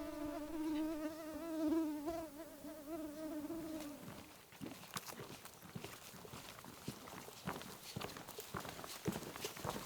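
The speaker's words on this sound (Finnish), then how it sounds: "Hyttysiä on välillä ihan älyttömän paljon." Mosquitoes whine close by for about four seconds on a hot-weather hike through Oulanka National Park. Steady footsteps on the trail follow and continue to the end.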